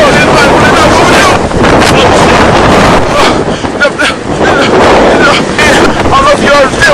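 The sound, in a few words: strong high wind blowing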